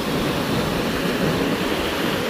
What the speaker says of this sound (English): Right where I'm stood, the waves are pretty pretty cute sized.